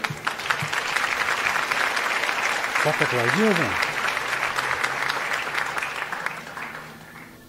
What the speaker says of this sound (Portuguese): acho que eu consegui trazer o aplauso de volta aqui